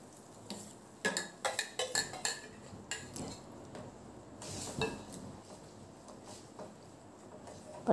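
A spoon clinks and scrapes against a pan while tomato chutney is stirred, with a quick burst of sharp metallic taps early on, then softer, scattered scrapes; quiet and close, with no talking.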